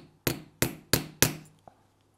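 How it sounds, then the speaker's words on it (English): Hammer thumping a lead block resting on a ginkgo leaf over copper: four sharp, evenly spaced metallic knocks in quick succession, then a fifth softer tap, close and clear in a quiet room. "put a lead block on top of the Ginko leaf and give it a bit of a thump with a hammer just to settle it on the copper"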